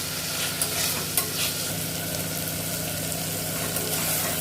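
A green chilli fried in a pan, giving a close, continuous sizzle with a low steady hum and a couple of brief clicks from the utensil.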